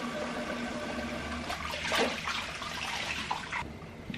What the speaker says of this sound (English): I'm just gonna wet my hands first and then work that into the mask and then wash it all off.